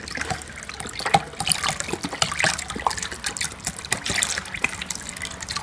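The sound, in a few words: pouring pineapple juice for punch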